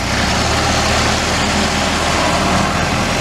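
Simple antique car engine without fuel, water or oil pump, at a historic village, running steadily at close range with a loud, continuous low rumble and no talking.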